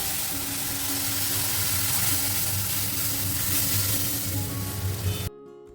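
Spices for a dal tempering sizzle in hot oil in a home kitchen, a loud, steady crackling fry with no talk, cutting off abruptly at the end.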